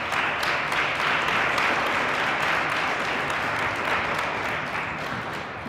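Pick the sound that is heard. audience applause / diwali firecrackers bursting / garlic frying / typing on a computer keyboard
audience applause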